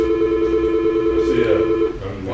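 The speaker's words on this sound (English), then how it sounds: "What is that? that's the new phone system." Office telephone on a newly installed phone system ringing in a county commissioners' courtroom, a steady electronic ring tone held for about two seconds before it cuts off, with faint room noise.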